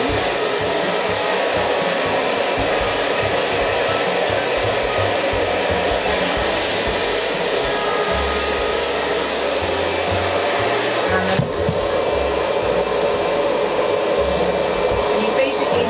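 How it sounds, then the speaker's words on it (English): A hair dryer blows steadily and loudly at close range while drying hair at the roots, a continuous whooshing roar with a brief shift in pitch partway through. "dry your hair really, really, really well at the roots underneath"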